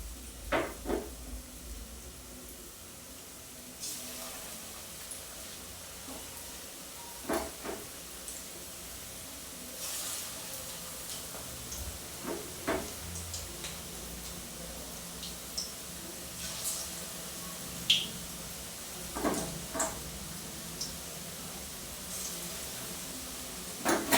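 Batter dropped bit by bit into hot oil fries with a faint, steady background sizzle, broken by scattered soft clicks and knocks of utensils.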